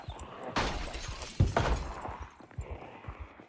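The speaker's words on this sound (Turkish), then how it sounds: "Camı kırdı." A zombie smashes through a window in the survival game Project Zomboid, a loud glass shatter bursting out followed by a second crash of breaking panes and scattered tinkling shards.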